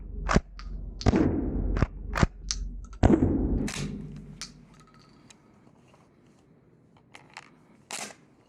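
Five sharp gunshots from a rifle or shotgun on an active-duty firing range, loud and close, spaced unevenly over about four seconds with echoing tails, followed by quieter clicks and handling noises.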